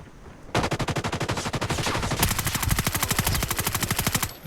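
Rapid automatic gunfire from the Call of Duty video game rattles in a dense, continuous burst lasting several seconds, loud and close.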